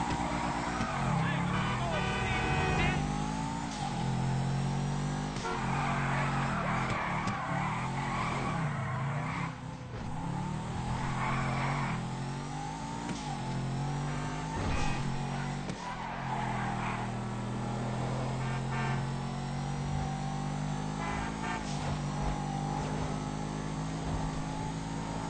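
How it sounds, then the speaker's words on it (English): A Dewbauchee Massacro sports car engine revs and roars in GTA 5, pitch rising and falling with tire squeals and skids, loud and continuous. "I will let you guys hear the sound of the engine now"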